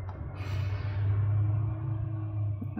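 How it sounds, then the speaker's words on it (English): A garbage truck passes outside, a low droning engine rumble with a steady hum that holds across the moment, faint and muffled as if heard through walls. "And garbage trucks are still lurking about."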